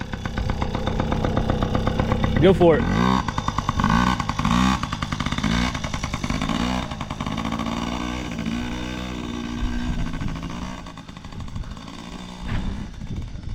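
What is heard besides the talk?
child's small motorcycle starting and revving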